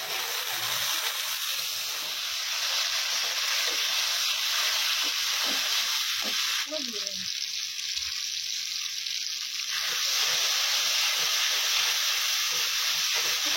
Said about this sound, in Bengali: এবার ভালোভাবে মশলাটাকে ভেজে নেওয়া হবে।